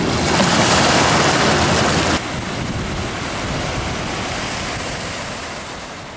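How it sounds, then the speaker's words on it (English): Incoming tide on the Thames foreshore, a steady broad wash of water and surf close by, mixed with wind noise buffeting the microphone, loud and continuous with no talk. "Here comes the tide."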